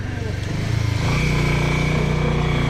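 A motorcycle engine running close by, a rough pulsing idle that swells into a louder, steady drone after about a second, with faint voices in the background.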